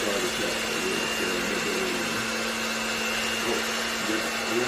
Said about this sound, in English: put the mixer in, turn it on, low